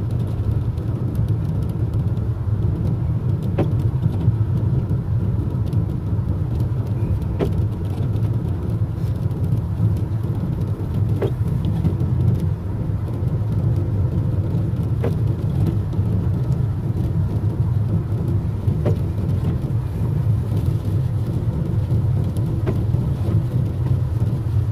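Car driving along an American road during a road trip, a steady low rumble of engine and tyres with continuous road noise throughout and occasional faint passing sounds.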